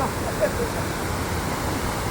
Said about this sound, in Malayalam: വളരെ ഹൈറ്റിലാണ് ഈ വെള്ളച്ചാട്ടം വരുന്നത്.